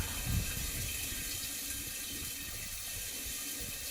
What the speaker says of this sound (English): So we're going to run the hot water